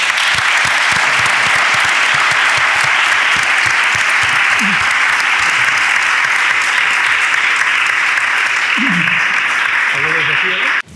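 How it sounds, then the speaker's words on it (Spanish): An audience at a fibromyalgia conference in Carmona applauds to welcome a doctor, steady broadband clapping sustained for about eleven seconds, with a few brief voices breaking through near the end. "Así que yo lo vamos a recibir con un aplauso"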